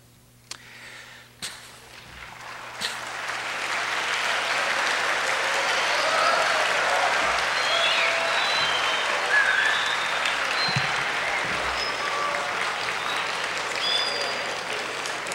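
A lecture audience of high school students breaks into applause, which swells after a couple of seconds of quiet and then holds as a full, steady clapping with a few faint sniffs and murmurs mixed in.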